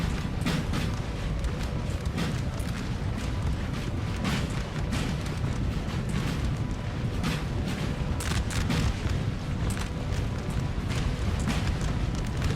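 Musket volleys from line infantry in Napoleon: Total War, a continuous crackle of many shots popping over a deep rumbling battlefield din, loud and sustained.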